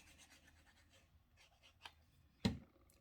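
Glue is spread along the bottom of a paper pocket for a handmade advent calendar album with faint, soft scratchy strokes, then a sharper tap near the end. It is quiet and close, with no talking.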